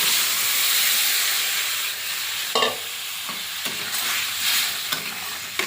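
Water hits frying ground cumin, coriander, chilli and turmeric for a katla fish curry, releasing a loud, close, bright sizzling hiss that gradually settles, broken by several sharp stirring scrapes and clanks.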